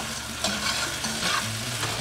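Chopped onions, peppers, jalapenos and minced garlic sautéing in a pan for Cajun Creole pasta, a close, loud continuous sizzle with scraping stir noises and soft clinks, no talking.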